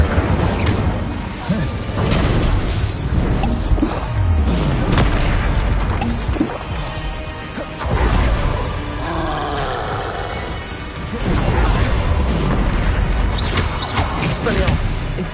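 Fire spells cast in Hogwarts Legacy, loud whooshing bursts and booms that recur several times over a continuous dense game soundscape, with a voice talking in between.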